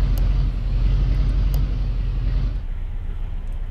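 Engine of a tow truck in the police game Flashing Lights, a steady low rumble idling close by that drops off partway through.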